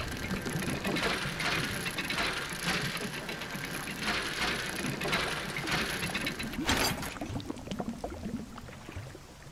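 Dredging machinery in the fishing game DREDGE, a steady mechanical ratcheting and grinding of gears with rhythmic clicking pulses, continuous and moderately loud, briefly swelling with a harsher surge near the end.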